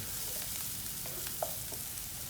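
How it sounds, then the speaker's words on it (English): Onions and garlic sautéing in a pan for a spicy vodka sauce, a steady close sizzle with a few faint stirring clicks and no talking. "I love the smell of onions and garlic being sauteed"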